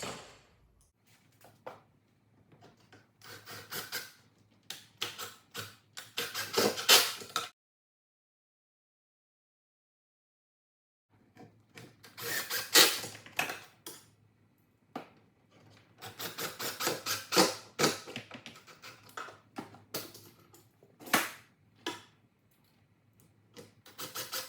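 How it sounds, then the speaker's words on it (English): Screws are driven to fix a board into a small storage closet shelf frame, with a run of bursty drill whirs and clicks, a long silent gap, then another cluster of driving bursts, close and moderately loud. "Now I'm going to come back and screw the other board in on this side"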